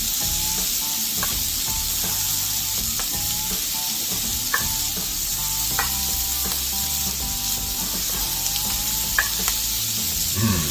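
A loaded breakfast skillet sizzles and fries steadily, a continuous close hiss with occasional clinks and scrapes of stirring throughout.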